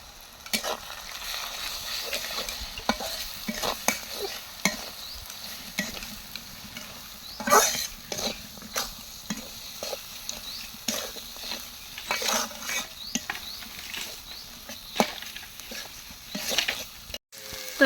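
Ginger paste with chili powder, turmeric and salt frying in oil for a village-style Bengali beef dish, a soft steady sizzle broken by repeated scraping stirs of a spoon in the pan, with no talk.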